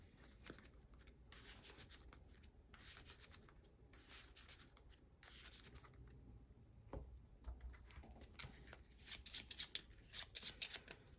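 A deck of playing cards is shuffled close up in several quick riffling bursts, each a crisp rapid flutter of cards, separated by brief pauses and soft handling noise at a quiet overall level, with no talking.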